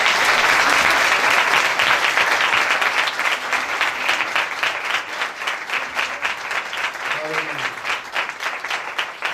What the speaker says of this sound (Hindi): आइए पाक रूह के लिए भरपूर तालियां बजाएं।